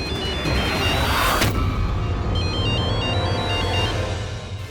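A ringtone plays a repeating electronic melody over loud background noise with a brief bang near the start.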